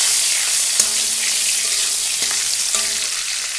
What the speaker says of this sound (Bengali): ফোড়ন দিয়ে দিচ্ছি, শুকনো লঙ্কা তেজপাতা দিয়ে দিলাম